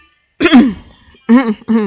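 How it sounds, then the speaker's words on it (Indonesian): A person coughs and clears their throat close up, a rough burst followed by two shorter throaty hacks. "batuk dulu"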